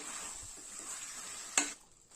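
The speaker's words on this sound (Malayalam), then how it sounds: "ഇതൊന്ന് മിക്സ് ചെയ്ത് കൊടുക്കാം." Stirring yogurt into a vegetable biryani mixture in a pot, a soft continuous scraping and sizzle ending in one sharp clink of the spoon against the pan.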